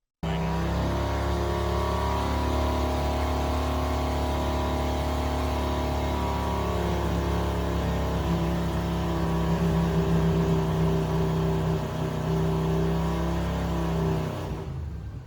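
A 200cc V-twin engine running on a dynamometer, held at a steady speed with a continuous buzzing drone and strong harmonic hum, loud and close, cutting off abruptly at the end.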